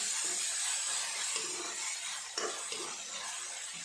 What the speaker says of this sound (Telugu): ఈ ఉల్లిపాయ ముక్కలు కూడా పచ్చి వాసన పోయేంత వరకు బ్రౌన్ కలర్లో లైట్గా వేయించుకోవాలి